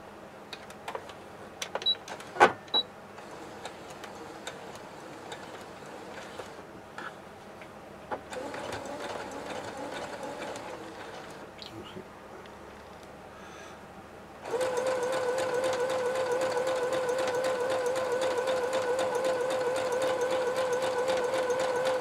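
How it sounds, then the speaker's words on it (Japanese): Sewing machine straight-stitching a pleated fabric mask about 3 mm from the fold, preceded by quiet handling clicks and rustles, then a loud, steady, fast mechanical whirring that runs continuously through the final third. "ミシンで縫います。"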